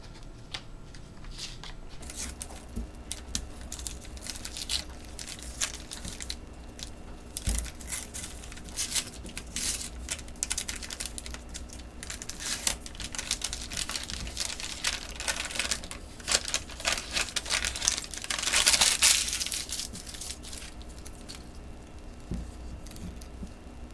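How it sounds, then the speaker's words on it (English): A packaged Squier guitar neck is unwrapped up close, with a continuous quiet rustle of crinkling and tearing wrap and a brief louder stretch of paper noise near the end. "So let's get to this and unwrap it"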